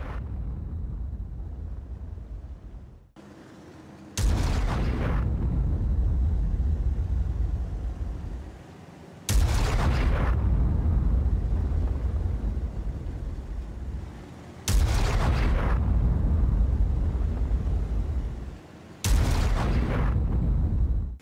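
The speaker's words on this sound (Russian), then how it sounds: "как выглядит и звучит одновременно выстрел из двух орудий" Four heavy, booming cannon blasts from a video game tank firing two guns at once, IS-2-II or IS-3-II, several seconds apart, each a sudden loud roar that decays slowly over a low engine rumble.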